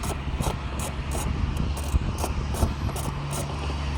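Screws are backed out of the power window master control switch on a Volkswagen Golf MK6, giving a steady run of small ratcheting clicks, about ten evenly spaced, close and moderately loud over a low hum.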